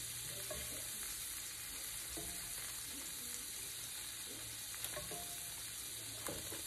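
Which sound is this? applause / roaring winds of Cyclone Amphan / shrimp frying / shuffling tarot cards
shrimp frying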